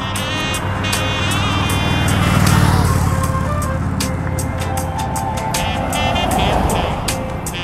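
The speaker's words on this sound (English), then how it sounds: "cars are coming" Cars on a road roll past one after another, a broad engine-and-tire hum swelling to a peak and easing off again, fairly close and loud throughout.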